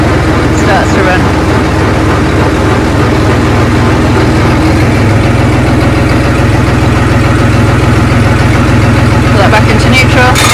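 A Siromer 304 tractor engine runs steadily with a loud, constant mechanical drone of a flail mower spinning behind it, while someone talks over the noise.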